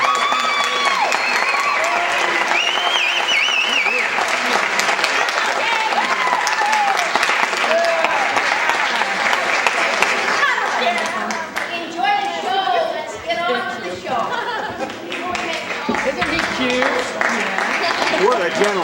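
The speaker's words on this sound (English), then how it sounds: "I want you to give her a round of applause." Sustained audience applause fills a high school auditorium after a performance of the musical Hello Dolly, dense and steady throughout with crowd chatter and a few cheers rising near the end.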